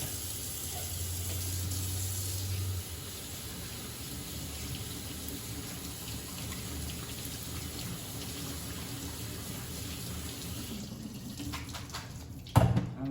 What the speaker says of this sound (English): I'm just gonna run these under cool water and chill them off for a second.